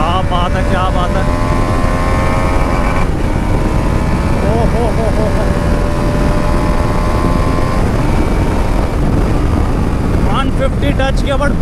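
A TVS Apache RR310 motorcycle accelerates hard at high speed, its loud engine roar climbing and shifting under heavy wind rush throughout, while the rider briefly exclaims.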